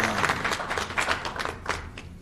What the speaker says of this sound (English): I want to take a moment and ask everyone to just applaud the efforts of this district attorney